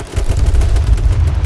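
Rapid gunfire in the battle royale game H1Z1 King of the Kill, a dense, continuous burst of loud low-end shots with no speech over it.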